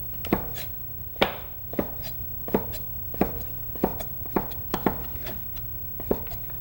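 A knife dices Vidalia onions on a cutting board for potato cheddar soup: about ten crisp, evenly spaced chops, close and distinct over a low steady hum, with no talking.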